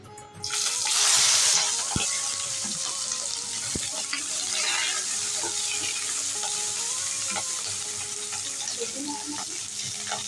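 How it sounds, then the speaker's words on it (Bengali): Onion, capsicum and tomato drop into oil in a wok for chicken do pyaza, bursting into a loud sizzle that settles into a steady, close frying crackle with occasional stirring clinks. "চিকেন দো পেঁয়াজের জন্য পেঁয়াজ, ক্যাপসিকাম, টমেটো ভেজে নেব। কড়াইতে দিয়ে দিচ্ছি।"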